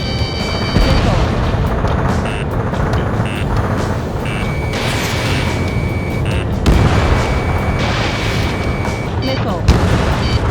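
Missile explosions in the Ace Combat 7 aerial combat game: repeated loud booms and blasts layered over a constant roar of jet engines and game noise, with radio voices talking throughout.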